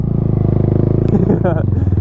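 A 2021 Honda Grom motorcycle idles close by with a rapid, pulsing low thrum, while someone speaks briefly over it.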